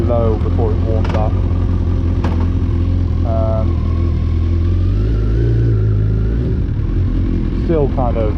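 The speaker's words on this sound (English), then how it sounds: "I've messed with the idle a bit actually on this as well. So we're idling a bit faster." An old big-engine motorbike idles fast with a steady, lumpy, throbbing rumble close by, running continuously while someone talks over it.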